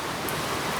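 Heavy rain pours down in a dense, continuous hiss of countless drops, steady and enveloping with no pauses, and no voices are heard.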